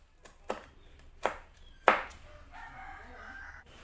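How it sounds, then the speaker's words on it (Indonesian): A knife chops through red curly chili peppers on a cutting board, cutting them diagonally. Three distinct, close chopping strikes fall about half a second apart, and a faint rustle follows them. "Lalu ini aku gunakan 2 biji cabai merah keriting diiris serong."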